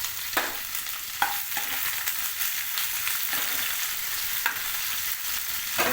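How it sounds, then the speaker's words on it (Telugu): Chana dal, urad dal and onions fry in a pan, with a steady bright sizzle and occasional scraping stirs of a spoon, close and continuous with no talking. "వేగిన తర్వాత శనగపప్పు, మినపప్పు, ఉల్లిపాయలు వేసుకొని"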